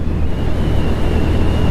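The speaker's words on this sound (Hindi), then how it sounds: "अब मैं 60-70 की स्पीड पे चला रहा हूँ बाइक अपनी।" Steady, loud wind roar buffeting a helmet or body-mounted action-camera microphone on a motorbike moving at about 60–70 km/h, a continuous broadband rush with low rumble and no talk.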